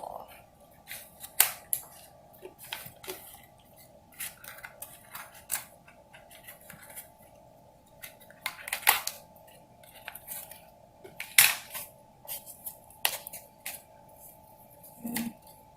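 Scissors snip through the loose weaving threads of a handmade bookmark, with irregular sharp close clicks and cuts scattered over a quiet background, some faint movement between snips.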